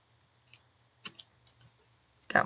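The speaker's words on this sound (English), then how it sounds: "Got my little scissors right up underneath there." Small scissors cutting glassine paper, a few sharp, separate snips and clicks spaced irregularly over near silence, ending in a louder crisp cut, close to the microphone with no talking.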